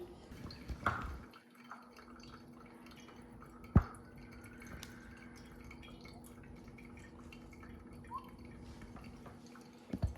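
A thin stream of water poured over coffee grounds in a pour-over dripper trickles quietly and continuously, with a few louder drips and splashes.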